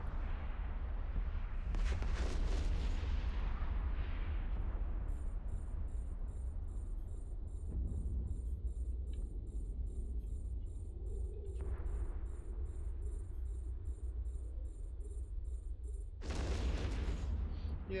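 Spaceships exchange fire in EVE Online, heavy booming shots with deep rumbling tails, one near the start and another near the end, over a low drone and faint repeating electronic tones.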